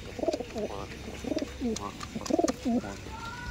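A pair of Giribaj pigeons coos close by in repeated soft, throaty phrases, three bursts of rolling coos separated by brief pauses, with some faint background noise.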